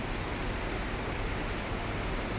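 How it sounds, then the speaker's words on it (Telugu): Summer rain falls in Vizag as a dense, steady hiss of drops on surfaces, loud and continuous and even throughout, with no voices and no thunder. "వేసవికాలంలో ఇలా వర్షం పడుతుంటే చక్కగా హ్యాపీ అనిపిస్తుంది."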